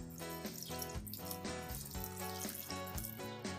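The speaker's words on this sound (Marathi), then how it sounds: "1 ग्लास पाणी घालायचं" A glass of water is poured into a pot of chicken biryani mix with masala and coriander, giving a continuous splashing flow with a shifting tone, near and alone.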